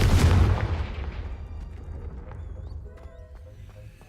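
A Confringo fire spell from the PS5 game Hogwarts Legacy explodes as a loud, deep booming burst at the start. It then rumbles and fades over a few seconds, leaving faint game ambience.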